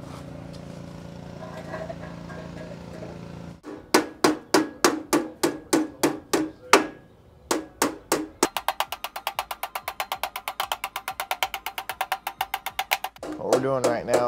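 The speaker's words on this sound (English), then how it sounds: "Doing right now is hammering these edges back over" Metal hammering: a steady run of sharp, ringing strikes on radiator tank edges of a 1960 El Camino, first spaced, then quickening into rapid rhythmic taps, close and loud.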